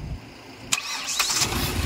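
A 2017 Hyundai Grand i10 Sportz engine cranks briefly and catches on the first try, followed by a steady, smooth idle heard up close with no talking.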